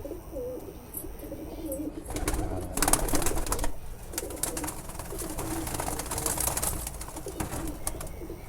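Teddy pigeons coo softly and repeatedly against a busy, rustling background, with occasional wing flutters and a steady murmur of birds nearby.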